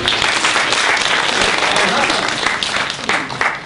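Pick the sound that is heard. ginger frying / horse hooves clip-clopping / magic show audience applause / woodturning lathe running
magic show audience applause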